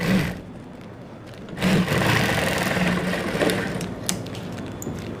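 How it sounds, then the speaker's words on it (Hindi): A sewing machine stitches a design onto a pair of trousers, a continuous rapid mechanical whir close up that dips briefly near the start and then runs steadily. "आधे इंच के दबाव से सिलाई"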